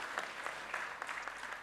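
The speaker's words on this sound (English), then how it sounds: "Let's give a round of applause for Pak Hendra." At a forum for financial institution CEOs, an audience gives a speaker a short, steady round of applause that sounds somewhat distant and soft, with a hint of crowd murmur.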